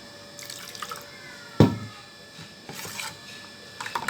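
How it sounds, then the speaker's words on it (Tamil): A sudden splash of water poured into wheat dosa batter near the start, followed by softer liquid sloshing and faint trickling; close and brief, with no voices. "இன்னும் கொஞ்சம் கூட நான் தண்ணி சேர்த்துறேன்"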